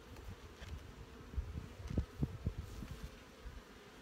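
Honey bees in a colony hum around an opened hive frame of brood, a faint, close, continuous buzz with a few louder passes as bees fly near.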